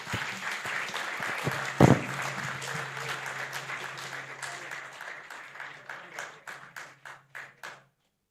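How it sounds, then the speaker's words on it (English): An audience claps briskly, then the applause thins to a few scattered, slowing claps before fading into silence. "I think he deserves a big round of applause."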